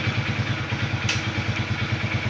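A motorcycle with i3s technology idles while stopped in traffic, a steady, close, rhythmic low putter that holds even throughout.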